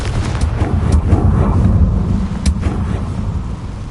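A Confringo blasting spell fires in Hogwarts Legacy, its explosive impacts and sharp cracks landing over a constant heavy low rumble, loud and close throughout.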